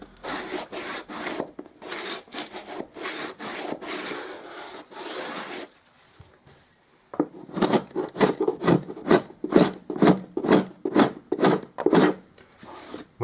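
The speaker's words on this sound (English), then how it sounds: "I'm just going to sand that edge." Hand sanding along the painted edge of a wooden baseboard, a run of quick rasping strokes, then a short pause before a second, louder burst of strokes close by.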